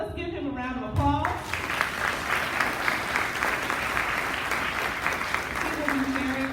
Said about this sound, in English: Students, let's give him a round of applause.